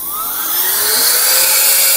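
A vacuum machine running as its vacuum level is raised, a loud steady whine that climbs smoothly in pitch and intensity, alone with no voices.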